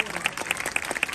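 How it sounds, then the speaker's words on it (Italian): Brief burst of applause from a crowd at a Saint Barbara street festival in Paternò, Sicily, with distinct close claps ringing out over crowd noise and a voice talking underneath. "fanno i complimenti loro con un grande applauso"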